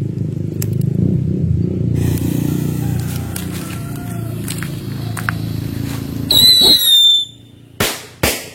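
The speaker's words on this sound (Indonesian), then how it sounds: "Sekarang kita coba petasan air travel dan juga petasan kretek." Firecrackers set off inside bamboo burst with loud cracks and crackling after a rumbling stretch of sharp pops, then two more separate blasts close by.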